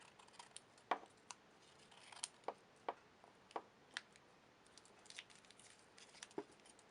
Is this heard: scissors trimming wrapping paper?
yes